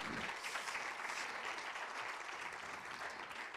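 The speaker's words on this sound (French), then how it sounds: "On peut l'applaudir." An audience at a media innovation award ceremony claps steadily, with a full, even roomful of applause sustained throughout at a moderate distance and no voices heard.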